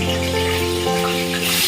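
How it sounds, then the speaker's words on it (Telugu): Cut paneer pieces hit hot oil in a kadai and fry with a steady, close sizzle, while a tonal hum runs underneath and there is no talking. "పన్నీర్ ముక్కలు కట్ చేసుకున్న ముక్కలు వేసుకోవాలండి"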